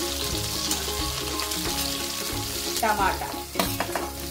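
Drumstick and carrot pieces for sambar fry in hot oil with a steady close sizzle and repeated stirring scrapes, a brief spoken word heard over the frying.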